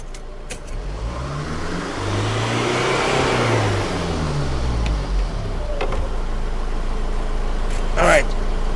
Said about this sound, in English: So I'll increase the engine RPM.